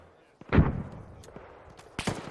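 Rifle fire in the Arma 3 military game: one close, heavy shot with a booming tail, a quieter crack a little later, then a sharp second shot near the end.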